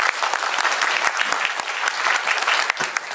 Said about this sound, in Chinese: 我们给理事长一个掌声好不好？